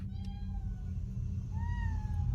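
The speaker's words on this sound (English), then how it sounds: "the family wakes up after hearing what sounds like a cat meowing at their front door" An unnatural, cat-like meowing comes from outside a front door: two drawn-out, wavering meows with a gap between them, heard fairly faint over a low rumbling background.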